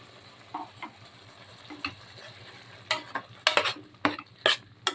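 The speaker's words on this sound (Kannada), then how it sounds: "ಇವಾಗೆಲ್ಲ ಚೆನ್ನಾಗಿ ಇದನ್ನ ಸ್ವಲ್ಪ ಫ್ರೈ ಮಾಡ್ಕೊಳ್ಳಿ." Ginger, garlic, mint, coriander and tomato masala paste fries in a pan for chicken gravy, a faint sizzle under several sharp scraping stirs that come in uneven bursts, growing busier toward the end.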